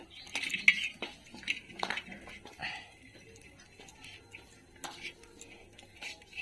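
A metal spatula scrapes and clinks against a pan while flipping fish frying outdoors in intense 43-degree sun heat, with irregular clattering scrapes under close whispered talk.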